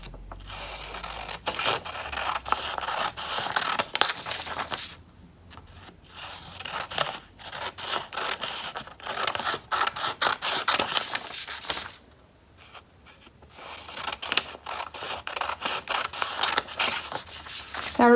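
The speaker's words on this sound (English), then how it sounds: "Now it's time to cut out the dotted lines." Scissors snip steadily through a printable Father's Day pop-up paper card, cutting along dotted lines in quick, close, rhythmic crunches with a couple of brief pauses.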